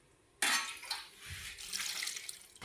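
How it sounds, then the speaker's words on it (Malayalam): Water poured into a clay pot of pork curry being cooked over a wood fire, a steady splashing pour that starts suddenly and runs close and fairly loud to the end, with no talk. "പന്നിയിറച്ചി ആയിട്ട് ഇതിനകത്ത് വെള്ളം ഒഴിച്ച് കൊടുക്കണേ"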